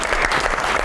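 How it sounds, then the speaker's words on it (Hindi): A studio audience applauds during a comedy talk show, a brief burst of dense, loud clapping heard near and filling the whole moment. "बहुत सारी"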